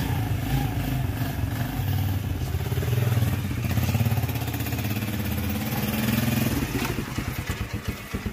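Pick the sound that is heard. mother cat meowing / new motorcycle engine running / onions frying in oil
new motorcycle engine running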